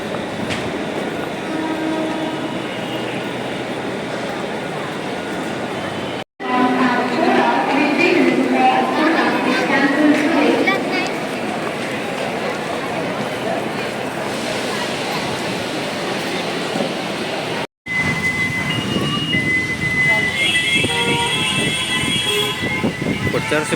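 Passenger train passing through a station, a continuous rumble of rolling wagons with a brief horn toot, heard under people talking.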